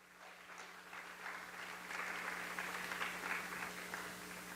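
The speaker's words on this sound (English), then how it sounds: "So let's give him a round of applause." An audience at a live musical benefit concert applauds, the clapping faint and distant, building after the first second and holding steady beneath a constant low hum.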